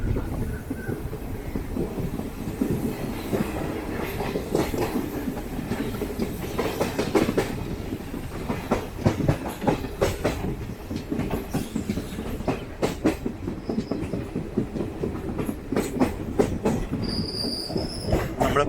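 Passenger train 06889 running on rails between Tiruppadirippuliyur and Vriddhachalam in India, a steady rumble with rhythmic clickety-clack of wheels over joints and occasional high wheel squeal, heard continuously from onboard.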